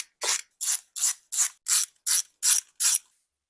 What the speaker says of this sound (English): now we can proceed to undo the fourth and final bolt